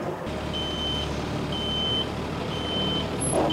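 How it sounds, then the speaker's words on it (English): A truck's reversing alarm beeps steadily, three evenly spaced long tones over a constant engine rumble, as the truck backs up to line a mobile rental boiler's gooseneck up with its coupler. "Connect the gooseneck to the coupler by guiding it in with the truck"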